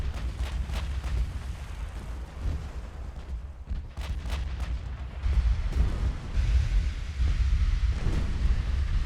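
Naval guns boom in a warship battle game, heavy rumbling blasts and sharp reports recurring over a constant windy roar, fairly loud with no speech.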